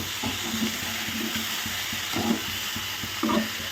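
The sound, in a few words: cabbage and vegetables frying in a pan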